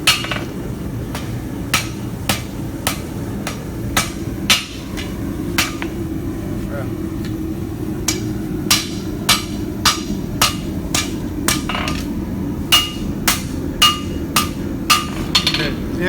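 Light hammer taps ring out on a forged steel chef's knife blade at an uneven, unhurried pace, about twenty sharp strikes over a low, steady background hum.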